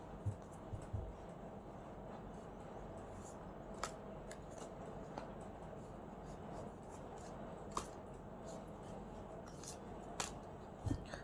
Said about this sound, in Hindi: हम शफलिंग द कार्ड्स को हम शफल कर रहे हैं।